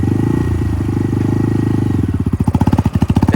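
A Honda Grom motorcycle rides past close by with a loud steady engine drone that turns into a rapid throbbing pulse as it goes by, and there is no talking.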